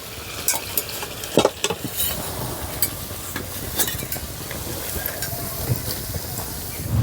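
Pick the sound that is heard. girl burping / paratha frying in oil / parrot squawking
paratha frying in oil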